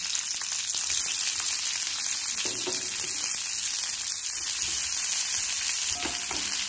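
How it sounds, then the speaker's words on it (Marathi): Chopped onion frying in a little oil in a pan, a steady close sizzle with occasional stirring scrapes, heard alone without talk. "छान कांदा परतून घेणार आहे."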